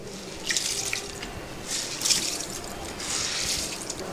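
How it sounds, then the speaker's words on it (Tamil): Water runs from a tap and pours into a cooking pot on a stove, a steady close splash that swells and eases in a few bursts with small drips, no talking over it. "கொஞ்சமாக தண்ணி ஊற்றி தண்ணி ஊற்றலாம்"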